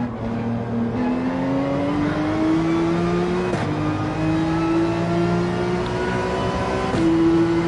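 Porsche 911 race car engine in Gran Turismo 7 climbing through the gears, rising whine interrupted by three quick upshifts, loud and continuous with no talk.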